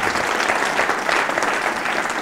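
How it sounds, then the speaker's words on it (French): Audience applause at a live comedy show in Tel Aviv: dense, sustained clapping from a large crowd, loud and continuous throughout. "je voudrais qu'on les applaudisse très fort si vous êtes d'accord"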